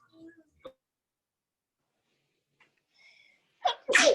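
A single sharp sneeze bursts out near the end, during a kids' art class, after a few faint murmurs and a quiet stretch.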